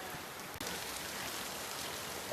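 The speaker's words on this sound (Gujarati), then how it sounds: "વરસાદ વરસી રહ્યો છે મિત્રો" Rain falls steadily in a village, a soft, continuous hiss with a single brief knock near the start and nobody speaking.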